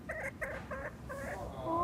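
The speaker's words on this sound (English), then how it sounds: "But listen to the chicken." Silkie chicken clucking in rapid short bursts, fairly soft and close, with a continuous background hum.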